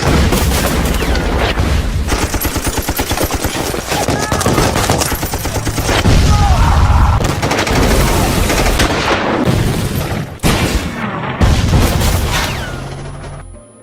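Gunfire and explosions from a war film battle scene, dense bursts of automatic fire and booms rolling almost continuously, loud and close, with brief breaks late on and a voice heard amid the chaos.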